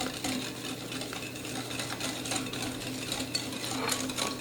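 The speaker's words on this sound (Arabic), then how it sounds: "وأستمر في الخلط" Continuous scraping and clicking as a utensil stirs thick chocolate biscuit dough made with Danette chocolate dessert, a busy close-up texture of small taps and rubbing with no talk.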